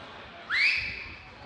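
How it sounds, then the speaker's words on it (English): A person whistles a single short rising note in a panel discussion room, clear and fairly loud over a faint room hum. "Why is it that whistling does better than speaking?"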